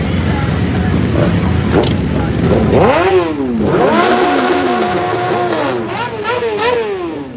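Sport bikes at Biketoberfest revving their engines nearby, with several loud rising and falling throttle blips over a rumbling crowd and traffic background.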